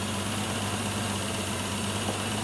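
A V12 twin-turbo BJ40 LandCruiser engine idles quietly and steadily, a low even hum with no revving, running alone without any talk.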